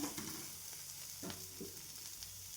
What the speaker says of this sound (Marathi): आपण दाणे आपले भाजलेले आहे तर या पद्धतीने आपण याला छान बारीक करून घेऊया मॅश करून घेऊया